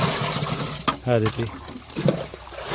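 A litre of water solution splashes onto a freshly transplanted drumstick (moringa) seedling in a field, a soft trickle and gush heard beneath someone speaking.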